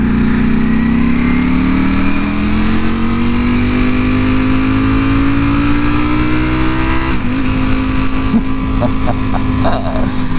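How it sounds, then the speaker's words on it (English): A Ducati motorcycle captured by a helmet-mounted mic, its engine pitch climbing steadily under acceleration, then dropping as the throttle backs off, with heavy wind roar throughout. "when you ram it up with the throttle and then you're backing off just as you kick it up"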